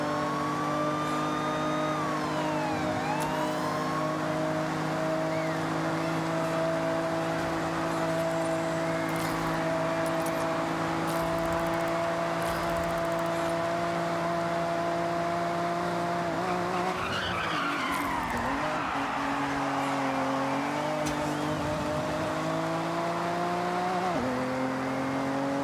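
In the video game Forza Horizon 6, a race car engine holds a steady high drone and then revs and shifts, with tire squeal and other cars in the pack roaring close by throughout.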